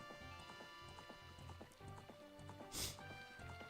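A horse gallops in The Legend of Zelda: Ocarina of Time, with steady, rapid clip-clop hoofbeats at close range running the whole way through. Game music plays underneath, and there is one brief louder burst.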